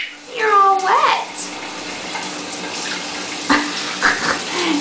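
Shower water runs steadily as a broadband hiss, with a voice and squeals rising over it near the start and brief splashes later.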